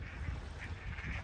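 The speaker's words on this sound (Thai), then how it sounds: "นกเป็ด หรือเป็ดแท้วะเนี่ย" A duck quacks out in a rice field, its calls coming in a few soft, uneven bursts over steady low rumble and background noise.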